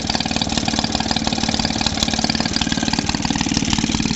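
A small gasoline engine from a Maytag Model 72D washing machine runs at a steady idle, a loud, rapid, even putt-putt close to the microphone with no talking.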